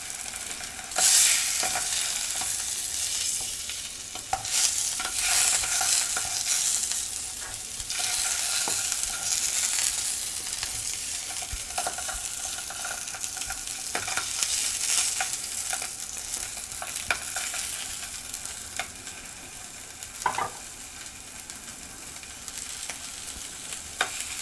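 Pasta sauce with peppers and onions sizzles steadily in a pan, broken by repeated stirring scrapes and clinks, heard close and alone without talk.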